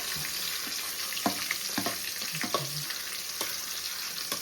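Prawns sizzle steadily in hot oil in a pan while being cooked for biryani, a continuous close frying hiss broken by several short scraping stirs of a spoon.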